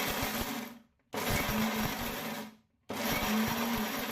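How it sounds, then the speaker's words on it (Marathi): A kitchen mixer grinder pulses cashews into powder in three loud bursts of whirring motor noise, each cut off by a short pause before the next run. "आता मिक्सर चालू बंद करून आपल्याला याची पावडर करून घ्यायची आहे"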